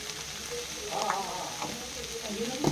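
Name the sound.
spiced vegetable mixture sizzling and being stirred in a pan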